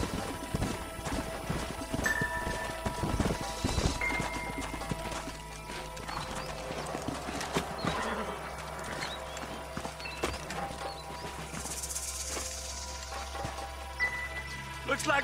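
Horse hooves clop in a steady trotting rhythm in Red Dead Redemption, with an occasional whinny and background game effects, moderately loud throughout.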